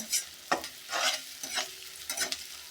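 Onions frying in a pan while a spatula stirs them, faint sizzling broken by several short scraping strokes at an uneven rhythm, with no talking.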